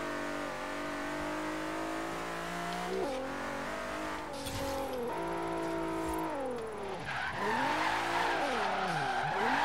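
A car drifting in the video game Forza Horizon 3 revs hard with a steady engine drone, its tires squealing and skidding through the turns, shifting pitch as the car slides, loud and continuous.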